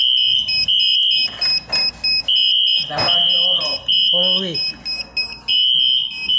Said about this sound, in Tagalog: Ayun, nag-alarma na.